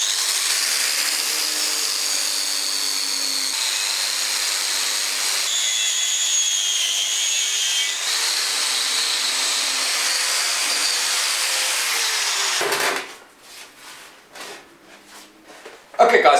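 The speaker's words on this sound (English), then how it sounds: "I'm going to use a wire brush on the grinder to just run over each component before I paint it" A wire brush on an angle grinder scrubs cast iron table saw parts with a loud, continuous high-pitched whirr and grinding hiss, then stops, leaving a few quieter scraping bursts.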